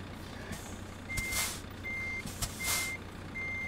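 A truck in a driving video game backs up with its reversing alarm beeping in a steady, evenly spaced rhythm, the tones sounding over a low idling engine hum and faint air hiss.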